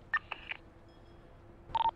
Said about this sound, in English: Get off the phone with whoever you're on the phone with.